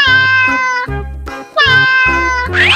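A cat meows twice, loud and close, with long drawn-out whining calls separated by a short pause, in a children's animal-sounds sequence.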